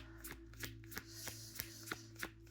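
Tarot cards being shuffled by hand, a series of soft riffling bursts recurring roughly every third of a second over a low steady hum, close and moderately quiet.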